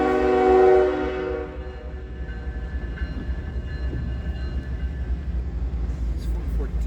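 A Norfolk Southern freight locomotive, an AC44C6M among the power, pulls a westbound manifest train, sounding a loud horn blast at first before settling into a steady rolling rumble of engines and railcars.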